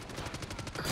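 Rapid automatic M4 rifle fire in Black Ops 6, a fast burst of evenly spaced shots lasting about a second with a louder blast at the very end.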